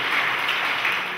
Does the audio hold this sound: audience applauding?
yes